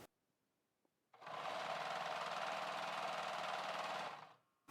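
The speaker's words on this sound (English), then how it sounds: "Let me run the machine." A sewing machine just repaired after thread got stuck in its handwheel and oiled with kerosene runs steadily for about three seconds, a loud even whirring hum that starts abruptly and stops cleanly.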